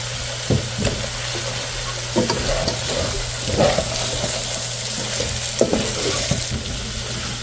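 Cauliflower frying with spices for a fish-and-cauliflower curry, a continuous close sizzle broken by repeated scraping and knocking stir strokes against the pan.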